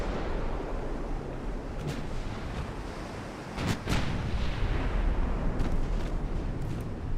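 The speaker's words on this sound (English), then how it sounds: "Our 13-inch guns will have him." Heavy 13-inch naval guns firing during a naval warfare video game battle, a continuous rumbling barrage with a few sharper blasts standing out near the middle, with no talk over it.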